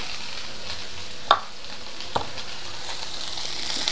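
Bean sprouts stir-fried in a pan: a steady soft sizzle with one sharp utensil knock and a fainter tap against the pan.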